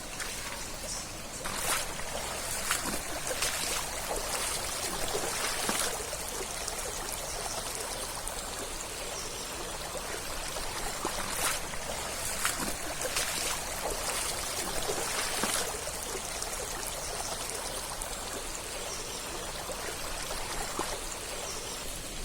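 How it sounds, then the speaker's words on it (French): Steady rushing water near the Gilton falls along a muddy trail, a broad continuous roar with small splashy transients, moderately loud throughout, no speech. "Donc on s'approche des chutes."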